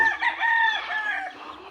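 Chickens in a backyard: a loud, close rooster crow rings out alone, with clucking around it.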